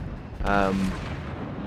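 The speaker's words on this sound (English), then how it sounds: "Fires off the rear turret." The rear turret of the battleship North Carolina fires in the World of Warships video game, a single deep booming shot with a short rumbling tail over low background noise.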